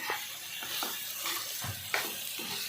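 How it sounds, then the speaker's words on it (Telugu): Chicken frying in a pan for a Sunday curry meal gives a steady, close hiss of sizzling oil, with occasional soft scrapes and stirring clicks and no voices. "చికెన్ ఫ్రై చేసేస్తాను"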